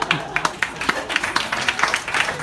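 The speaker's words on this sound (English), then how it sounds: "A lacklustre round of applause." A small audience at a poetry book reading claps briefly and unevenly, a thin scattering of light handclaps with no cheering.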